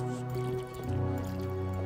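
Plants get watered in the Zen Garden of the Plants vs. Zombies video game, a steady synthesized trickle and drip with soft squishy liquid tones and a faint musical drone, heard alone.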